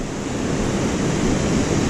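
Ocean waves surge onto a Pacific razor clam beach in a steady, loud wash of surf mixed with wind noise, rolling continuously without any voices.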